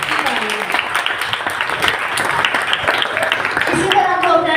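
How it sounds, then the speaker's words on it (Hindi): Audience clapping at a religious gathering program, continuous moderate applause mixed with voices and crowd noise throughout. "आप सबकी तालियां"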